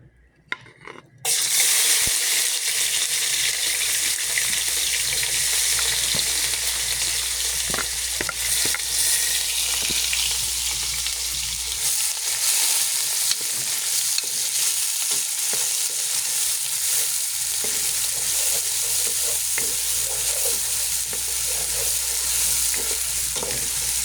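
Onion and garlic sautéing in a pan with whole black pepper, a loud continuous sizzle that starts abruptly after a brief quiet moment and holds steady, with occasional stirring scrapes.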